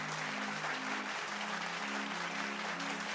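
Studio audience applause on a Tamil television reality singing show, a dense, steady wash of clapping that holds at an even level throughout, with no voices over it.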